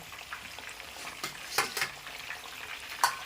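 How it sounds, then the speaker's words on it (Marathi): Chicken fritters (bhaje) frying in hot oil, a steady close sizzle with a few sharper crackles and stirring clinks, no voices. "तर आता आपण हे परत तेलामध्ये टाकलंय"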